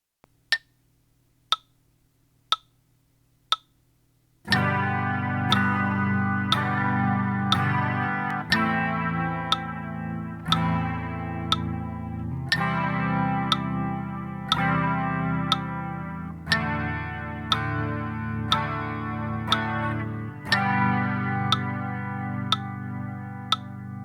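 A few sharp metronome ticks, then a distorted electric guitar strums chords in a steady mix of quarter-note and half-note rhythms, clicks continuing beneath.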